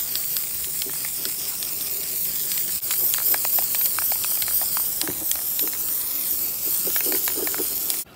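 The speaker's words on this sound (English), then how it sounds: "This can is really old. That's why it's spraying like that." An old aerosol can of VHT wrinkle paint sprays onto a valve cover in a steady, loud, continuous hiss lasting several seconds, broken by faint clicks and rattles, with no talking.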